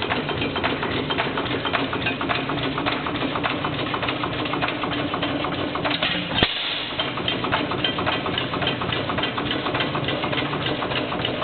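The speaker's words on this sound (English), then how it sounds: "Here is the 8-horse Racine Sta-Rite." An 8-horsepower Racine Sta-Rite stationary gas engine runs steadily with a dense, rapid chugging of fast repeated firing strokes, close and moderately loud, with one brief sharp knock partway through.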